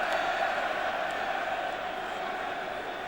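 A near 52,000-strong crowd at a 1993 Five Nations rugby match, a sustained broad roar of encouragement filling the stadium without a break.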